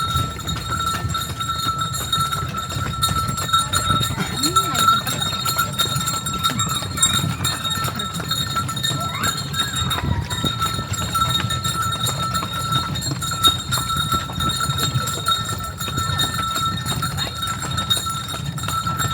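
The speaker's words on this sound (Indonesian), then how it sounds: "Sore-sore naik kuda ya, Ben?" Horse hooves clip-clop steadily through a late-afternoon horse ride around Setu Babakan, a low continuous rhythmic patter under outdoor wind and ambient noise, with a brief voice in the background.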